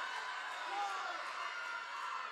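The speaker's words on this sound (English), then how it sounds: "Aviator crowd letting the officials hear it for the call" Crowd at a high school boys' basketball game between Austintown Fitch and Alliance jeers the officials after a foul call, a sustained roar of voices filling the gym under a commentator's talk.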